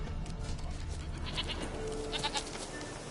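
A goat bleats several times in The Witcher 3 video game, fairly clear bleats over a steady game ambience background with no talking.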